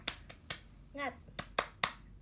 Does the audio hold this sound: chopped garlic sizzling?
no